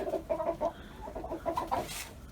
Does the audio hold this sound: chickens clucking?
yes